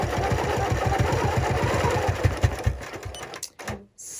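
A quilting sewing machine stitches in the ditch with a fast, steady mechanical chatter of needle strokes, close and prominent, before slowing, stuttering and stopping near the end.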